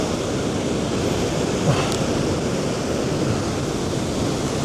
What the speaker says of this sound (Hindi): अब ये पानी बेसिकली यहाँ से सीधा जा रहा है और ड्रॉप हो रहा है